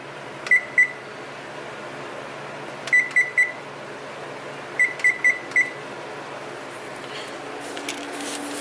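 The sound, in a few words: kitchen timer being set with beeps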